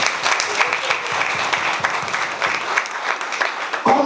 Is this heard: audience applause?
yes